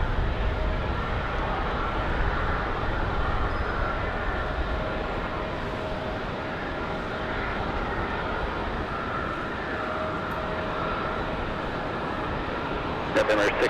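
A CRJ regional jet at Raleigh Durham airport in windy rain, a broad steady engine roar mixed with rain and wind noise, continuous and fairly loud throughout with a faint voice underneath.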